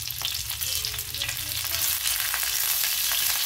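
Slit green chillies sizzle and crackle loudly and steadily in a thick iron griddle pan while being stir-fried, with no voices.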